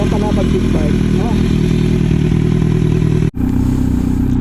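A Kawasaki Z900 motorcycle engine running after roadside repair, a loud steady idle with a brief cutout before it picks back up, as people talk over it.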